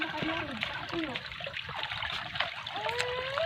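A shallow creek with very little water left after hot weather trickles and gurgles steadily and softly, with small splashes throughout and no talking.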